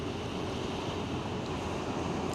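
Sea waves and strong wind at the Hue river mouth on Vietnam's coast, a constant, roaring rush of surf and gusting air buffeting close to the microphone.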